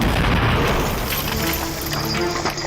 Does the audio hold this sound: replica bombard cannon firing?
yes